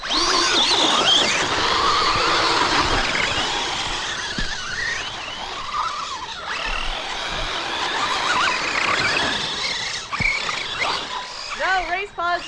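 Team Associated Rival MT10 RC monster trucks racing around a backyard track, a high electric whine with tire squeals and scuffs that rises and falls as they circle, while people shout and talk nearby.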